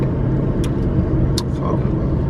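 A car being driven, with a steady low road rumble and engine drone throughout, a few brief higher hissy noises over it, and no clear talk.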